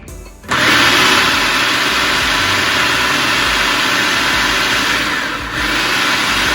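A food processor whirs steadily as it blends carrot top pesto made with pecans, starting abruptly and running loud and continuous with a brief dip near the end.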